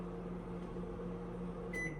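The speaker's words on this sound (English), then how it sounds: "I'm going to turn my microwave off so y'all can hear me." A running microwave oven gives a steady, close mechanical hum with a low electrical drone throughout, and a short, sharp high beep sounds near the end. Nobody speaks.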